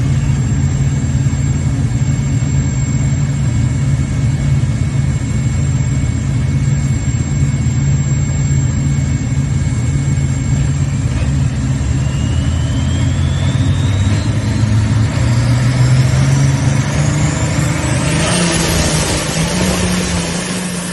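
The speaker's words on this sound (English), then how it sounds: "Ross he watched his own tractor go down the track." A pulling tractor roars down the track at a tractor pull, a loud sustained engine drone with a whining pitch that climbs steadily as it builds toward the end of the pass.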